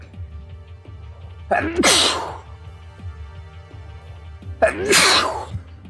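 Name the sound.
sneeze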